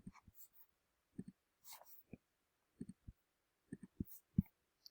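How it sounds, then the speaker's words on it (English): Faint, sparse clicks and soft taps from typing on a computer keyboard, coming in short irregular clusters in a quiet room with no talking. "I'll type it in for you."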